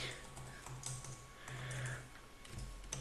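A username being typed on a computer keyboard for a Scratch account sign-up, with soft, quick, irregular key clicks over a quiet room hum and no voice.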